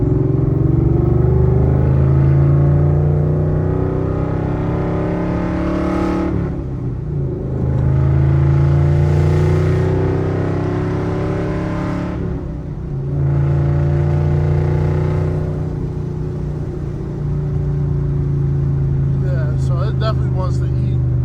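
A freshly engine-swapped car drives along with a deep, rumbling exhaust, its engine swelling and easing in long repeated pulls while a voice talks over it.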